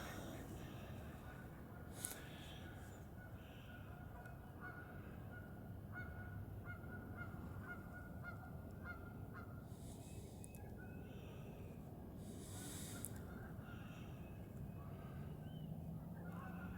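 Greater white-fronted geese cackle at a waterfowl hunting spot on Eagle Creek, honking calls rising over steady outdoor background noise, with a few louder bursts standing out and no talk.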